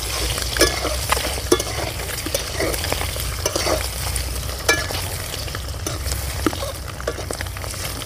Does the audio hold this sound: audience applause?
no